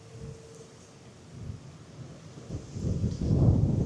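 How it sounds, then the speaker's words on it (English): On the Scottish coast at Ullapool, a low rumbling wind and rain noise builds steadily from faint to loud, buffeting the microphone close up with no one speaking. "And here comes the rain."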